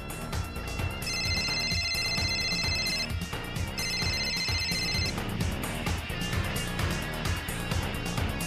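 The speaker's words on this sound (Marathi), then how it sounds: "येतोय असा काहीतरी रिंगटोन वगैरे वाजल्यासारखा आवाज आला मला" A telephone ringtone rings in repeated bursts, with bright tonal chimes sounding for a couple of seconds at a time over a steady musical background. The ringing is fairly faint and sounds as if it comes from another room.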